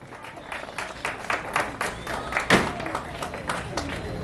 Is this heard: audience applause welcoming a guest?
yes